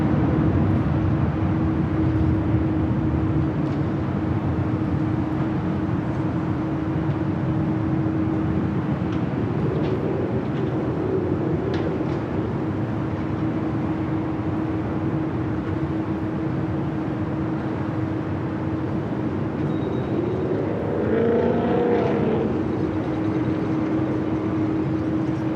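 A Boeing Dreamliner bound for Tokyo Narita departs down runway 24 left at LAX in haze, its jet engines making a steady, loud, broadband roar with a constant low hum that lasts the whole time, with no voices.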